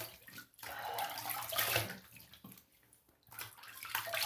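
Running tap water rinsing an Edwin Jagger DE89 double-edge razor at a bathroom sink after a shave, a steady close splashing flow with brief dips and swells, no talking.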